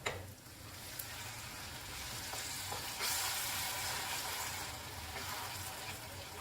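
Tomato masala for an egg pepper gravy frying on a low flame, a steady soft sizzle with occasional stirring scrapes, continuous and fairly quiet with no talking.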